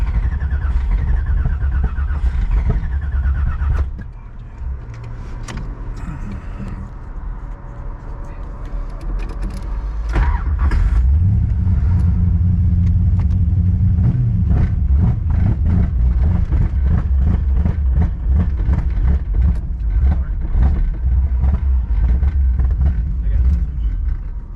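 An LS-swapped Nissan 350Z's V8 restarts and rumbles along toward a gas station, first a brief low idle, then a cut, then a louder rising engine drone that holds steady, with talk over it.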